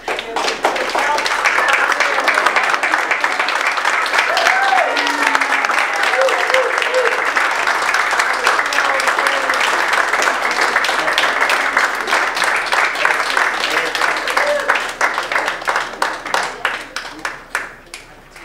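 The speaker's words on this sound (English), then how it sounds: "I'd like to ask for another round of applause for Joe Jen as he directed." Sustained audience applause for the director at a theatre festival staging Wilhelm Tell scenes, a dense steady clapping that fills the room for most of the stretch before thinning into scattered claps at the end, with a few voices and cheers mixed in.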